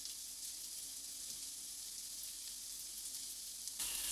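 A vegan pizza topping mixture with fresh and dry parsley sizzles softly in a frying pan, a faint, steady hiss with light scraping as it is stirred, no voices.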